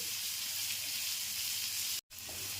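Spices sizzle steadily in a hot frying pan while dry potato curry is stirred, a constant loud hiss with a brief cut near the end.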